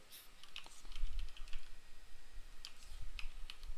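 Someone types on a computer keyboard, a close run of quick, uneven key clicks with a few louder taps, continuing without speech.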